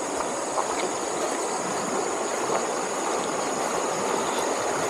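River water flowing steadily past a spot reachable by 4x4, a broad continuous rushing wash, close and even throughout with no voices.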